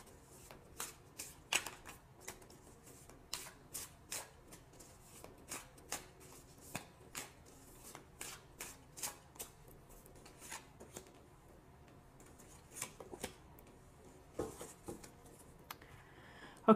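A deck of tarot cards is shuffled and handled close up, with repeated soft riffling bursts and slaps in an irregular rhythm, quiet and alone.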